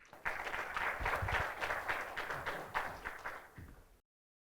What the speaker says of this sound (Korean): 주재환 대표이사님을 큰 박수로 맞이해 주시기 부탁드립니다.